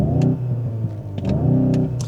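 The synthesized interior engine sound of a 2025 VW Golf GTI Mk8.5 rises and falls in close, loud revs, with a few short throttle blips in between.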